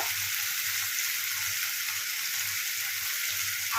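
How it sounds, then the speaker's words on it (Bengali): A spice paste sizzles steadily as it is stirred and fried for a fish roe fritter curry, with a constant bright hiss of hot oil and soft, regular low scraping pulses underneath, close and alone. "আবারও নাড়াচাড়া করে ভালো করে কষিয়ে নেব"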